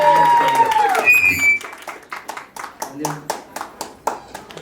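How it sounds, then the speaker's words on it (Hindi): Clapping for dance performers with good choreography at a haldi celebration, starting after a burst of voices and music, then a steady run of sharp, fairly close hand claps. "जोरदार तालियां इनके लिए."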